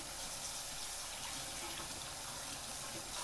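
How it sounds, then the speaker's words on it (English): A kitchen sink tap runs steadily as a cloth is rinsed under it, a continuous close rush of water with no break. "I will just do a quick rinse off of my cloth at the kitchen sink behind me"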